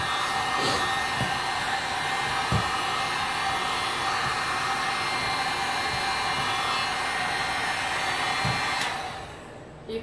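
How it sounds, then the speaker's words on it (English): A heat gun blows continuously on a resin dish, a loud, steady close-up whoosh of hot air held for nearly ten seconds before it cuts off; no talking. "I take my heat gun and just help it along."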